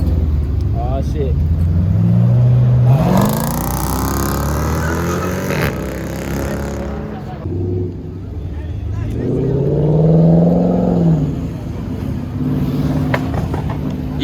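A Mercedes-AMG car engine revs hard on a city street, rising and falling in loud sweeping bursts with other engines nearby, while people talk and shout over it.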